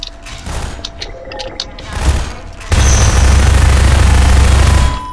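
Gunfire from the shooter game Half-Life 2 comes as a quick run of close, sharp shots, followed by a loud, sustained roaring burst that holds for a few seconds before cutting off, with a voice speaking nearby.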